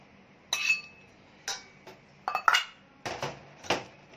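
Salted catfish being mixed into a cabbage mixture in a bowl, with a series of sharp clinks and scrapes of a utensil against the bowl in irregular bursts, close and clear, with no talking.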